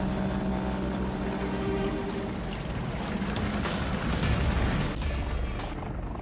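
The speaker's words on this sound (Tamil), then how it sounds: "எனக்கு தெரிஞ்சு அது அவுட்போர்ட் மோட்டார் சத்தம் மாதிரி இருக்கு." A boat's four-stroke outboard motor runs as a continuous, loud, rumbling drone with wind and water noise mixed in.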